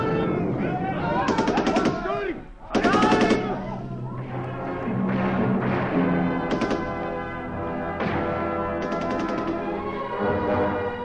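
Staged gunfire in a Romanian radio drama: bursts of rapid machine-gun rattling and shots cut in and out, mixed with music, shouting voices and clanging effects.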